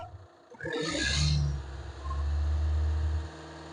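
A Hyundai Creta 1.4 E+ engine starts with a brief revving burst, then settles into a steady, loud low rumble of idling before cutting off near the end.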